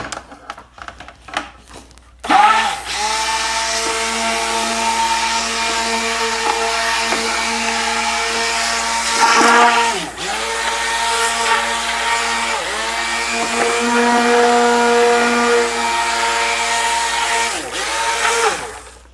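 After a few brief knocks, an immersion blender plunged into a bucket of homemade laundry detergent starts with a jolt and whirs loudly and steadily, its pitch wavering as it churns the liquid.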